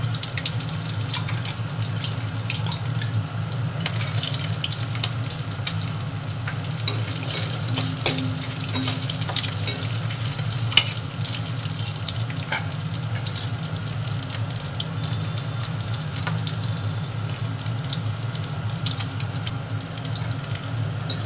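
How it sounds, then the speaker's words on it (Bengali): Fish bones fry in oil with a cumin tempering as a steady, dense sizzle with scattered crackles and occasional stirring scrapes. It runs continuously and fairly loud, with no talk. "তেল দিয়ে দিয়েছি, জিরার সম্বারা দিচ্ছি, মাছের কাঁটাগুলো দিয়ে দিলাম"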